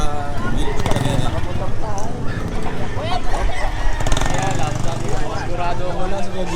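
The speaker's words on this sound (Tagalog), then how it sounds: "Ito, dami mga manok dito." Many chickens cluck and crow close by in an outdoor spot by a motorcycle parking area, mixed with a busy background hum and people talking.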